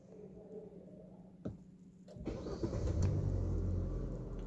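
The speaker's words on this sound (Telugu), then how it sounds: "వెహికల్ మళ్ళీ స్టార్ట్ చేస్తాను." A Hyundai i20 N Line with a late-starting complaint cranks briefly and catches, its engine then settling into a steady, close idle that grows fuller and louder, with no talk over it.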